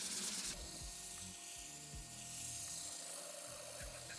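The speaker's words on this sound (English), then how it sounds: "And just working that oil and the sandpaper back and forth." Oil-soaked sandpaper is rubbed back and forth inside a turned wooden bowl spinning on a lathe, giving faint, rhythmic scratchy strokes over a steady motor hum.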